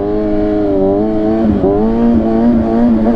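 A 450 dirt bike engine revs close by, holding a strong, steady buzzing drone with a brief dip and recovery in pitch midway, loud and alone.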